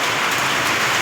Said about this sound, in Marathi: पाऊस चालू झालेला आहे लय जोरात पाऊस आहे